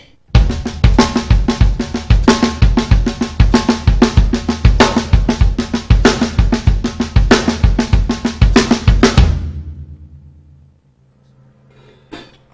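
A steady drum groove: bass drum and snare alternating in a backbeat with a busy cymbal pattern, loud and close, ending after about nine seconds with a ringing tail.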